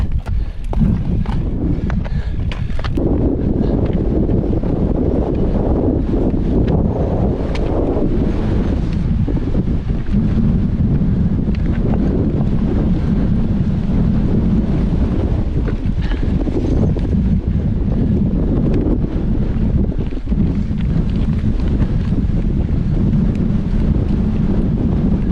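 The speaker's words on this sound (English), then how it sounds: "Whoa, that is some wind." Strong wind roaring over the microphone during a mountain descent in an El Paso race, a constant heavy low rumble and buffeting that lasts throughout, loud and close.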